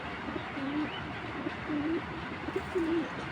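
A female chocolate racer pigeon coos close by in three soft, low rounded phrases spaced about a second apart, over a steady background hiss.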